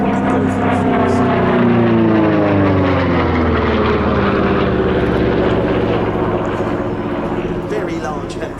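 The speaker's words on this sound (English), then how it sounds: "Very large and very heavy for a single engine aircraft." A single-engine Republic P-47D Thunderbolt warbird, a large and heavy fighter, roars past loud and close at an airshow at Cosford, its propeller drone shifting in pitch as it passes and slowly fading toward the end.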